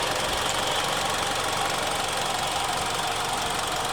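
A Mitsubishi Outlander Sport SUV engine in healthy condition runs at a steady idle, a constant close rumble with no change in pitch throughout.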